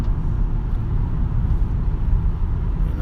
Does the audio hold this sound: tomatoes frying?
no